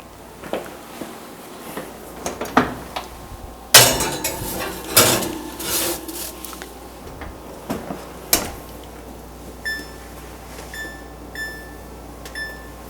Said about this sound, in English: Now I'm going to put it in the oven.